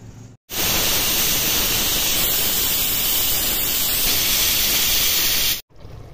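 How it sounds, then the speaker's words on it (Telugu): A pressure cooker holding mutton curry vents steam through its whistle, a loud, steady, close hiss that starts abruptly, holds for about five seconds, then cuts off sharply. "ఇప్పుడు మూత పెట్టి ఒక 5-6 విజిల్స్ వేయిద్దాం."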